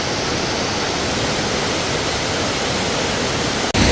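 Rushing floodwater after heavy rain in Alanya, Turkey, a loud, steady broadband roar that fills the clip without a break, with a brief dip near the end.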